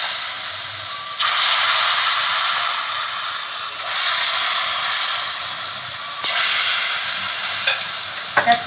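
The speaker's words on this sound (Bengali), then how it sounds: "তেলটা আমার হয়ে গেছে এবার আমি এতে বড়াগুলো ভেজে নেব" Gram-flour batter drops for motichoor laddu sizzle in hot oil, a steady loud hiss that swells each time a new spoonful goes in, ending with a few sharp clinks of the spoon.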